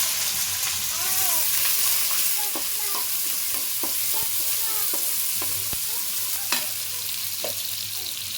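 Mustard seeds, cumin and onion frying in a pan with curry leaves, a steady close sizzle with scattered pops and crackles and occasional stirring clinks.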